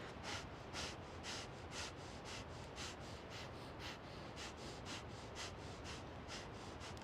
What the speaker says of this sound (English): So keep exhaling. Sharp, short exhales.